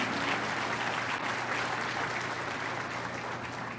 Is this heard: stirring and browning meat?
no